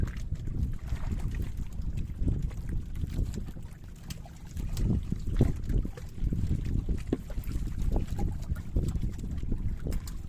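A fishing boat moving on water, with steady low rumbling, sloshing and wind noise buffeting throughout, continuous and fairly loud.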